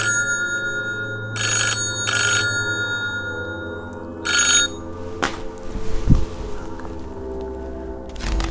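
A phone rings with an incoming call in short electronic ringtone bursts, three separated trills at close range, with a low background hum, a few handling clicks and bumps between them.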